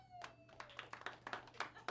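Audience members at a stand-up comedy show clap their hands in a stand-up comedy club. The claps are scattered and uneven, a modest, fairly faint patter of individual claps rather than full applause.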